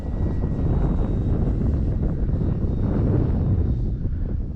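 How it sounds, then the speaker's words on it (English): Strong wind buffets the microphone outdoors at an RC airfield, a loud, continuous low roar and rumble that fills the whole stretch without easing, with no voices. "But yeah, it's awfully windy today."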